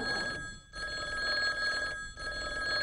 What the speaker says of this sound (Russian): Холмс, вас к телефону.